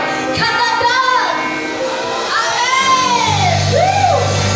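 A church congregation at a morning worship service cheers, whoops and shouts together, a loud, sustained crowd roar with rising and falling yells, while a sustained keyboard tone plays underneath.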